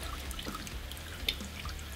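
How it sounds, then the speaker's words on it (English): Hot oil drips and trickles off a deep-fried battered cake in a fryer, a steady soft patter of small drops over a low bubbling hiss, close and fairly quiet, with no talking. "There's a lot of oil dripping off of this"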